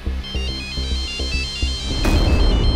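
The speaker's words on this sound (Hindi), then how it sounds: "फिर एक रात अचानक इसके बाप का फोन आया" A telephone ringtone for an incoming call chimes loudly and steadily in repeating electronic tones, with a brief change near the end and no voices.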